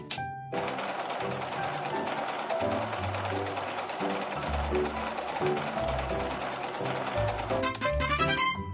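A sewing machine in a fashion dress-up video game stitches a skirt, a steady rapid mechanical chatter running almost the whole time over light background music.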